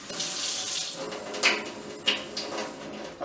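Water runs from a sink tap onto a rag being dampened, a steady close splashing stream broken by a couple of sharper clinks and handling knocks, with no talking.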